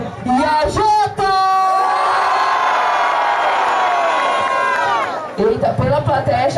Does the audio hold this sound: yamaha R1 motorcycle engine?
no